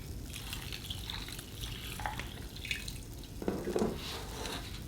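Water pours and drips into a saucepan holding beef, bay leaves and crushed garlic, a faint, steady trickle in a quiet kitchen with a few louder splashes near the end.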